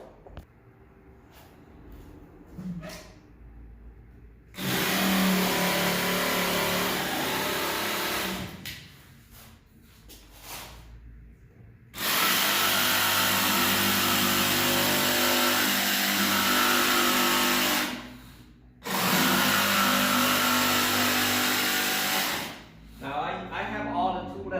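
A jigsaw cuts through rigid stone composite flooring in three long, loud, steady bursts of buzzing blade noise, separated by short pauses with quieter background sound.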